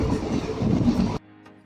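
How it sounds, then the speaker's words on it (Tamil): Pothigai Express train running at speed, a steady loud rumble and rattle from on board that cuts off abruptly partway, leaving quiet background. "மறுநாள் விடிஞ்சு எழுந்திரிச்சு பார்த்தா நாம் பொதிகை எக்ஸ்பிரஸில் ஒரு நல்ல வேகத்தில் தென்காசியை நோக்கி போய்கிட்டு இருக்கோங்க"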